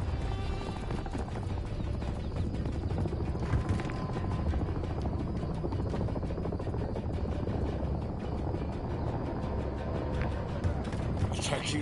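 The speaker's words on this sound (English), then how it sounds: "Attack helos fucking relentless." Attack helicopter in Call of Duty Modern Warfare 3, a steady rotor thump and mechanical drone running throughout, with game sounds and speech mixed over it.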